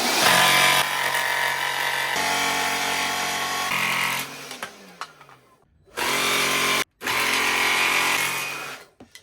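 A power tool saws loudly through a carbon fibre front splitter for an AMG track car, a sustained harsh buzzing cut that winds down, then two more short bursts of cutting separated by brief pauses.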